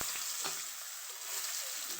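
Onion frying in hot oil in a pan after fish, a steady bright sizzle with a few soft clinks of stirring, close and quiet, no voices.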